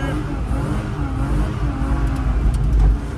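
A turbocharged BMW E36 325i drifting at Bugey, its engine revving hard and loud in a sustained growl with the throttle swelling near the end.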